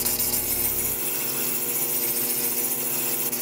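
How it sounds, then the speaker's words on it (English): An Ultratech gem faceting machine runs at about 600 RPM with a 600 grit lap, cutting a small green zircon. It gives a steady, close, continuous whirring drone with layered hum tones and no voices. "And again, I run the machine, my Ultratech, at about 600 RPMs."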